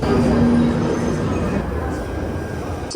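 London Underground metro train in motion, a steady loud rumble of wheels and carriage with a faint high whine that fades, heard from inside the car.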